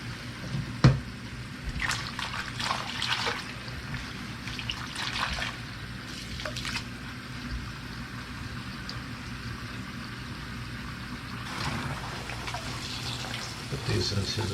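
Hot water runs and trickles into a basin for washing rain jackets with Nikwax TX Direct, a quiet steady flow with light splashes, while a person talks over it.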